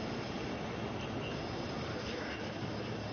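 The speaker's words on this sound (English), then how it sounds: "This is that like sewage plant where the trains come through." A steady, muffled rumble of trains rolling past a sewage plant in a video game, continuous and moderately loud with no clear voices.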